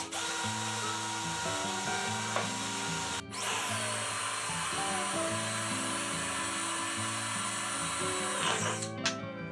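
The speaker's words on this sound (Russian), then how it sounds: "начинаю сверлить отверстие в 1 миллиметр сбоку болта" A drill whirs steadily while boring a 1 mm hole into the side of a bolt, with a brief pause partway before the whine resumes and cuts off near the end, over a faint musical background.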